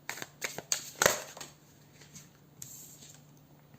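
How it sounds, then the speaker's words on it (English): Tarot cards are shuffled by hand in a quiet room, giving a series of soft riffling and flicking bursts in the first second and a half, then faint scattered rustles. "I'm gonna shuffle to see what comes through for your future spouse."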